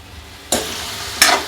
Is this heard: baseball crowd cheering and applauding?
no